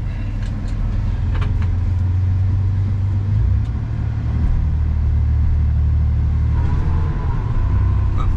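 A 1993 Ford F150 pickup's engine rumbles steadily at low speed, close and continuous, with faint creaks and crunches as the truck rolls backward, wheels spinning a little.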